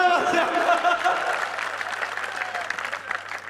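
Applause from the audience at a comedy poetry show, a strong burst of clapping that gradually thins and fades, with a voice briefly audible near the start.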